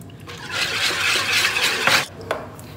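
Batter being stirred in a bowl with salt and melted butter, a continuous close scraping swish for about two seconds followed by a couple of short utensil taps.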